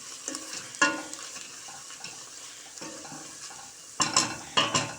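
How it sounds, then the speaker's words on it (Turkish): Leeks sauté in a pan with a soft sizzle, broken by scraping stirs and sharp clinks of a utensil against the pan, louder in several quick strokes toward the end. "Pırasalarımı da 3-4 dakika şöyle güzelce kavurdum."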